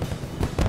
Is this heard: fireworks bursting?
yes